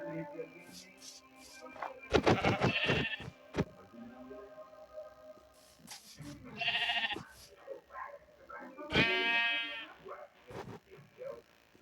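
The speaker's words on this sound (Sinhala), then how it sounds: "පොර සුදු බැටළුවා" A white sheep in the video game Craftsman bleats a few times in separate, wavering cries with pauses between them, mixed with clicks and other game sounds.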